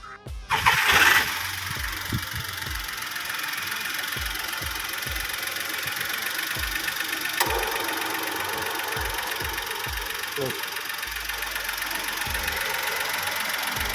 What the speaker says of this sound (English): So this is the engine noise.